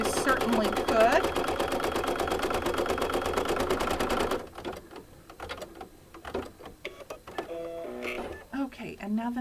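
An embroidery machine stitches the leaf veins of a maple leaf applique coaster, rattling in a rapid, steady rhythm for several seconds before halting, after which a person talks over light handling sounds.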